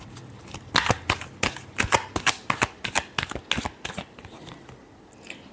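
A deck of tarot cards is shuffled in a rapid run of about fifteen crisp riffling snaps, close and fairly loud, tapering off near the end with no talking.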